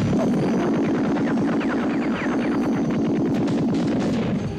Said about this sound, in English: they use the sound effect of a machine gun, but this is clearly a shotgun